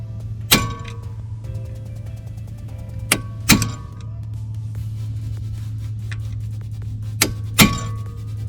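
Several sharp metallic hammer taps on a tool locking the front wheel hub in place during a 2013 Toyota RAV4 wheel bearing replacement, struck in small pairs a few seconds apart over a steady low hum in a garage.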